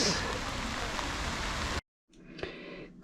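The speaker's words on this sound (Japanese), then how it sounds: "雨降ってきたので、" Rain falls outdoors in a dense steady hiss during an eel-fishing trip, then cuts off abruptly into quieter, sparser patter after a short silent gap.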